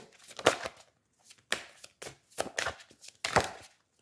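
A tarot deck is cut and handled in a few distinct bursts of papery slaps and shuffling, four or five sharp card sounds separated by short silences, close and fairly quiet.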